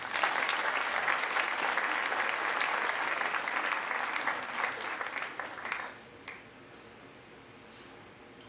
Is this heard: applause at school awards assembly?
yes